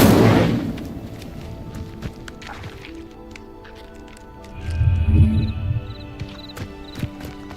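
The Incendio fire spell cast in Hogwarts Legacy, a loud whooshing burst at the start fading into ambient game sounds, then a second low rumbling flare a few seconds later.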